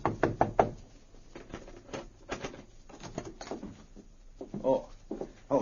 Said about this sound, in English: He knocked on the door of their room.